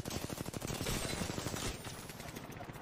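Rapid automatic gunfire from a Devotion energy weapon in the Apex Legends video game, a dense rattling burst for about two seconds that then tapers off into scattered, quieter shots and game ambience.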